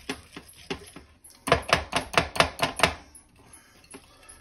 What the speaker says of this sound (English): Whisk, whisk, whisk.